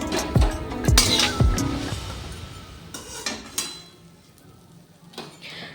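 Fried potatoes are lifted out of a pan with a utensil. There are a few loud scrapes and clanks in the first two seconds, then quieter clinks and a faint sizzle.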